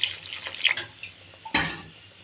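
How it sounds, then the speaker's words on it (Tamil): Water goes into a pot of dried fish and pirandai curry with drumstick and brinjal. There is a brief close splash and trickle, then a louder pour near the end. "தேவையான அளவு தண்ணி சேர்த்துக்கலாம்."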